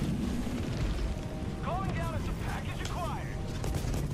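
Robot enemies blow up in the video game Helldivers 2 against a dense, continuous rumble of gunfire and explosions, with whining mechanical sweeps over the din.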